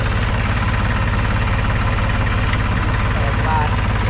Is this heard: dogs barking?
no